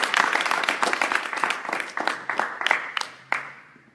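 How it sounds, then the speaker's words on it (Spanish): A church congregation claps for the Lord during a sermon, a moderately loud burst of applause that thins out into scattered individual claps, with the last lone claps trailing off near the end. "¿Por qué no le das un aplauso al Señor?"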